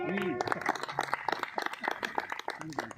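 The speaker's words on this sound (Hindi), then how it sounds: "ताली बजाओ" Audience clapping at a poetry recital honouring railway Covid warriors, a quick uneven patter of many hands heard at moderate distance, with a voice briefly audible at the start and end.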